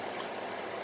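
Water from a sauce pan is poured into a cooking pot of Pakistani-style beef paya, a brief steady splashing trickle heard close and alone.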